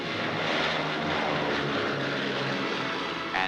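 Propeller-driven airplanes flying past in a 1942 wartime setting, a steady loud drone of aircraft engines throughout with no pause.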